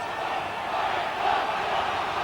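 A rugby test crowd in 1993, England Emerging against New Zealand, roaring steadily in the distance, a broad, fairly faint swell of cheering that rises slightly midway.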